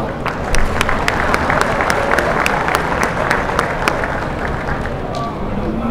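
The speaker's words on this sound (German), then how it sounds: "Spenden Sie diesen 5 Züchtern einen kräftigen Applaus" A crowd at a Brown Swiss cattle show applauds the five breeders, a dense, even wash of clapping with a few sharp individual claps standing out, loud and sustained throughout.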